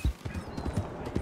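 Horse hooves clip-clop at a steady walking rhythm on a trail in Red Dead Redemption 2, close and fairly loud over a soft ambient bed.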